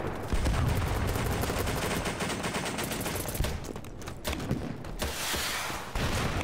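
Rapid bursts of gunfire crackle almost continuously, loud and dense, like automatic weapons firing in a battle in the game BattleBit Remastered.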